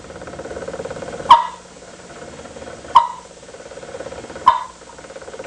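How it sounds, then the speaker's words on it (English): A tube turkey call gives three short, sharp single clucks, spaced about a second and a half apart, over a faint background hum. "And the cluck just goes tuk."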